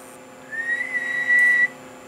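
A steady high-pitched whistle from a Dentron MLA-2500 early non-B ham radio amplifier on the bench, holding one tone for over a second and growing slightly louder near the end over a faint hum.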